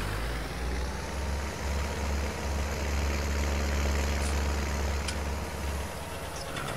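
In a multiplayer farming video game, a tractor engine idles with a steady, low, droning rumble that stays loud and close throughout, with no one talking.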